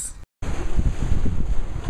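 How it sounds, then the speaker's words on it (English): Wind gusts across the microphone out on a lake during an early March fishing trip, a loud buffeting rumble with a brief dropout, steady and close. "Sorry if it's really windy out here."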